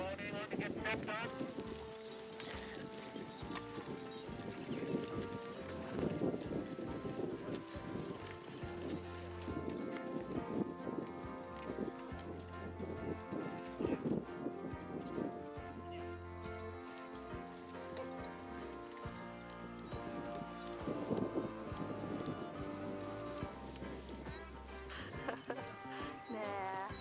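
A horse walks while plowing a field, its hooves clopping steadily in a loose rhythm under frequent nearby talk across a long stretch.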